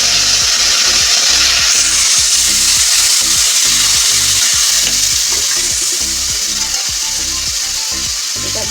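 Garlic paste frying in a pan, a loud, steady sizzle running throughout with rhythmic scraping strokes of a spatula stirring the mixture.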